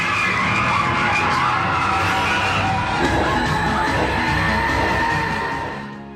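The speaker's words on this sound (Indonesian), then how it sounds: "tiba-tiba saja mobil itu bergerak dengan kecepatan tinggi." An Indian film scene: a car suddenly speeds off at high speed with loud, continuous tire skidding and engine roar, tapering at the end.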